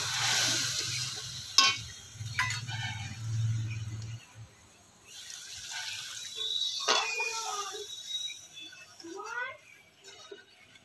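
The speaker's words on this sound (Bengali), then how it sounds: "এবার একটু জল দিয়ে দিতে হবে, পরিমাণ মতো জল দিয়ে দিতে হবে" Water is poured into hot oil in a pan while tilapia curry cooks, giving bursts of sizzling and hissing with brief splashy stirring. Someone talks over the cooking sounds.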